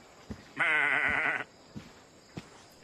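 A goat in the pens of the game Assassin's Creed Odyssey lets out one loud, wavering bleat of about a second, with a few faint clicks and footfalls around it.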